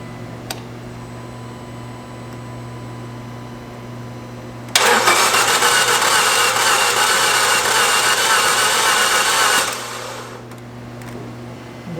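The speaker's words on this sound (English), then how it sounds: "Okay, so engine works, that's the important thing." A freshly installed Fiat 500 1.4L engine cranks and catches, running loud and steady for about five seconds before cutting off, with quiet background hum before and after.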